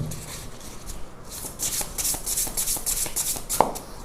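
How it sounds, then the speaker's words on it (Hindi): Tarot cards are shuffled and drawn by hand at close range, producing a soft, continuous riffle of papery rustling and flicking with one sharper snap near the end; no talking. "तो मैं कुछ रैंडम कार्ड्स निकालूंगी"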